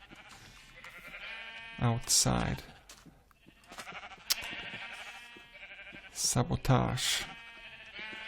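Sheep bleat repeatedly in Minecraft, several loud close calls rising and falling in bursts between stretches of ambient game sound, with someone talking over them.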